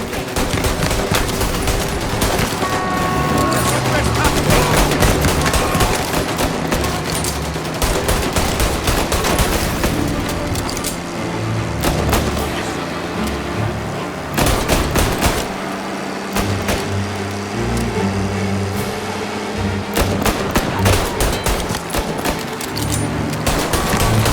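Dense gunfire in the Mafia Definitive Edition video game, with bursts of rapid automatic shots and single cracks mixed with engine noise, continuous and loud throughout.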